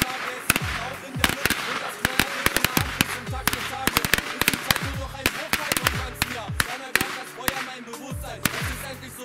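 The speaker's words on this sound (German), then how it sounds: "Jetzt gibt's die Knallkette. Da haben wir Knalleffekte." A Phönix Big Bang firecracker chain goes off outdoors in a rapid, irregular string of sharp loud cracks and bangs lasting the whole stretch, with brief mumbled voices between the pops.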